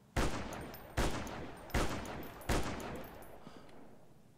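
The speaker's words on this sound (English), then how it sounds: "We're emptying our sniper rifle." Four heavy sniper rifle shots boom in a video game against mutants, evenly spaced about three-quarters of a second apart, each loud and close with a decaying tail.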